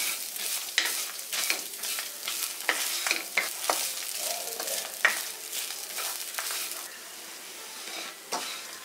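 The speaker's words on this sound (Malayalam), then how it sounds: "തേങ്ങ നല്ല ഗോൾഡൻ ബ്രൗൺ കളർ ആവണ വരെ വറുത്തെടുക്കാം" Grated coconut is roasted in a dry pan until golden brown for a Kerala-style chicken curry, with a soft sizzle under repeated rhythmic scraping strokes of a spoon against the pan, close and clear.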